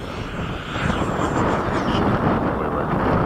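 An 80mm 12-blade electric ducted fan model jet flies past at an airfield, giving a loud, steady jet-like whoosh that swells and holds with some wind noise over the microphone.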